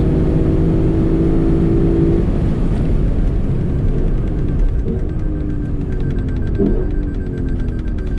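A Lexus LC500 Convertible's engine screams at full throttle on a race track, a loud, sustained high-revving roar with rising and shifting tones as it climbs toward a 7,300 RPM redline, heard close and alone.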